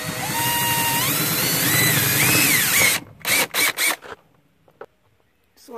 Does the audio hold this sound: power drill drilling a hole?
yes